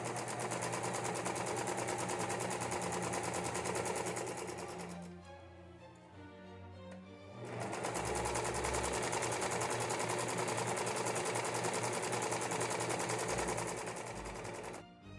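A sewing machine stitches a 1950s Easter dress in a long, loud, steady whir, pauses for a couple of seconds of quieter handling clicks, then runs again at full speed, close and alone.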